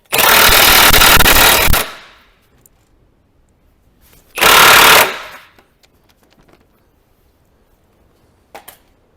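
An impact wrench spins a nut tight on a Land Rover Discovery 3 with a 21mm socket, in two loud rattling bursts, the first nearly two seconds long and the second shorter, followed by faint clicks and handling.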